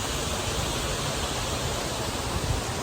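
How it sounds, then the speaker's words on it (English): Waterfall along the Pinnacle Mountain Trail, a dense steady rushing roar of falling water, close and continuous with no other sounds. "So that's your first waterfall."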